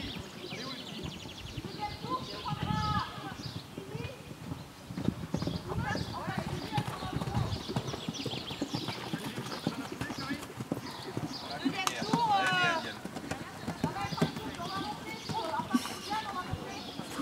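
Pony hooves clip-clop steadily on the ground during a riding lesson, with occasional birdsong and people chatting over the rhythmic footfalls.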